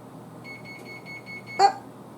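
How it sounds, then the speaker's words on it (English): A kitchen timer beeps in a home kitchen during meal prep, a quick run of high, steady electronic pulses lasting about a second, ending with a brief clatter over a low background hum. "Oh, my timer's on."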